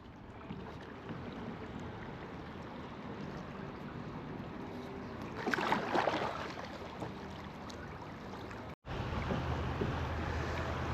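Steady wind buffets the microphone while kayaking on Twin Creek in Ohio, a continuous broadband rush with a stronger gust in the middle and a brief dropout near the end, no talking.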